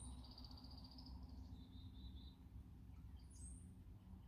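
Faint high-pitched bird calls, thin drawn-out whistles and a brief chirp, sound at a distance over a steady low background rumble.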